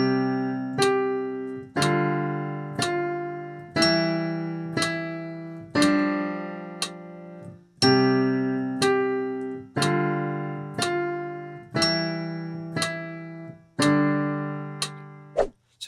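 Bars three and four of the nursery rhyme Twinkle Twinkle played on a piano in a beginner lesson: a steady sequence of struck chords and melody notes with an even rhythm, clear and close, with no talking.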